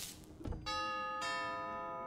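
A doorbell in the video game Five Nights at Freddy's VR: Help Wanted, Curse of Dreadbear DLC, rings with two bright sustained chime tones after a soft thump, clear and close with no talk.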